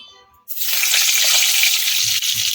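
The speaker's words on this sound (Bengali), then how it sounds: "এখন আমি ভাজাগুলো ভেজে নেবো প্রথমে দিয়ে দেবো কুমড়োগুলো" Pumpkin pieces drop into hot mustard oil, setting off a sudden loud sizzle that holds steady and close, with faint stirring thumps near the end.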